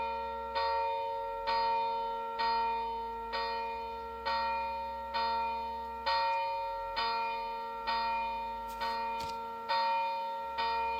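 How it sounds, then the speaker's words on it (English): A church bell in the video game Gerda: A Flame in Winter tolls steadily, about once per second, each strike ringing out with a bright, sustained tone over a low background hum. "The bells are ringing."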